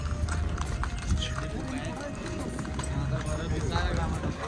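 Hooves clip-clop steadily along the Amarnath cave pilgrimage trail beneath continuous outdoor noise, with voices talking over the plodding rhythm.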